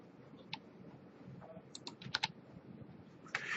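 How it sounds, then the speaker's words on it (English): Keys tap on a computer keyboard in a few quiet, scattered clicks, close and faint against soft room noise. "We're going to hit the letter C on our keyboard."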